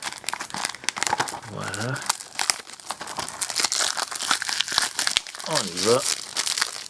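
Plastic wrap crinkles and tears as it is pulled off an Atomic Blonde Blu-ray case, in dense crackling rustles throughout, with someone speaking French briefly over the handling.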